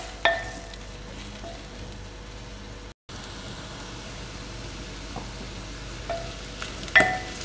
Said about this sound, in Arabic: ونقليه هنا مع البصلة